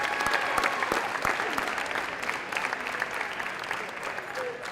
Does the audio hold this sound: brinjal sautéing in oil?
no